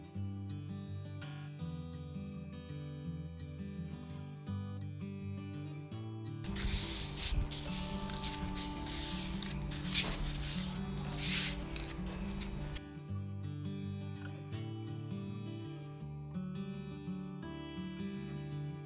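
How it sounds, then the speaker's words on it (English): A hissing spray of sealant onto wood bursts out for about six seconds in the middle, loud and close, over continuous background music. "I apply 2 coats of a spray sealant."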